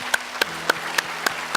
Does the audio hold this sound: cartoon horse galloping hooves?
no